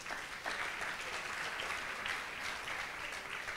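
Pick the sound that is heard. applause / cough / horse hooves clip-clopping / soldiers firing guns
applause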